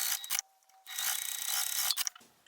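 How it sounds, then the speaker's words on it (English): A sewing machine stitching through several layers of fabric for Christmas gift wrap, giving a rapid mechanical whir in two bursts separated by a short pause, with close clicks at the start and finish. "So I'm sewing through all the layers, tacking down the top and the bottom all together."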